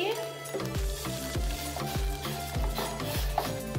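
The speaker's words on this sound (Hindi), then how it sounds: "अब इसमें हम पास्ते को ऐसे डालकर बॉईल कर लेंगे" Pasta dropped into a pot of hot water and stirred, a continuous hissing bubble with regular low scraping knocks of the spoon against the pot, close by.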